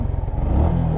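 An old motorcycle engine, started in neutral, runs with a low, rough, throbbing rumble, loud and close for a brief moment on a rugged hill road.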